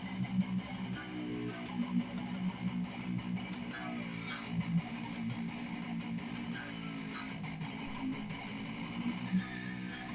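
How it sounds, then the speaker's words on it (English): Distorted electric guitar riffing with wavering notes bent by pulling on the string, over steady rhythmic chugging, fairly quiet and continuous without any talking. "I started pulling on the string and it sounds like this."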